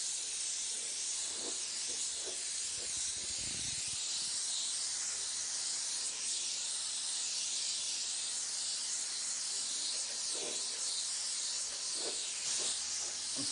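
A touch-up spray gun hisses steadily while spraying paint, a continuous airy spray held for the whole stretch with faint small knocks underneath.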